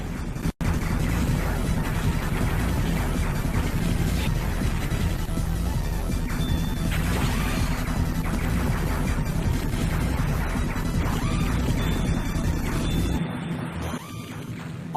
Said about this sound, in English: This game's pulsing soundtrack immediately gets into the proceedings to gleefully blow up every enemy on screen